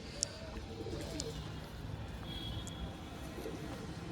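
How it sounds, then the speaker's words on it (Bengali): Large pigeons coo softly and repeatedly nearby over a low, steady background murmur, with a few faint chirps in between. "খুব সুন্দর পায়রা বড় সাইজের পায়রা"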